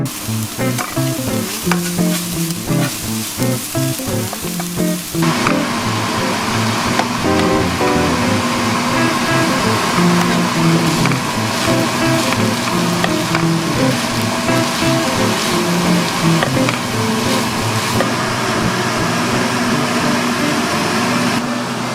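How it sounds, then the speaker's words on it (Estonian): Water poured into a hot pan of vegetables sizzles and steams loudly, a dense continuous hiss that swells sharply after a few seconds and stays steady to the end, with no voices. "Nüüd lisasin siia panni põhja natuke vett, panen kaane peale ja lasen kõigel aurustuda."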